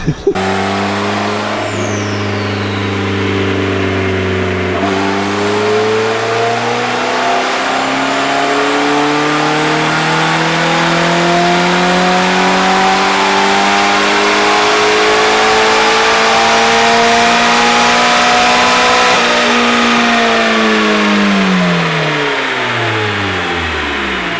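A turbocharged Honda Civic engine runs on a dyno, apparently not making boost, its loud droning note climbing steadily through a long pull before dropping off at the end, heard up close.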